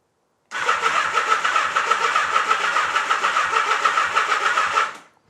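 A Honda Nighthawk motorcycle that had sat unused for four years cranks over with a rapid, even chugging starter rhythm, loud and close, for about four seconds before stopping.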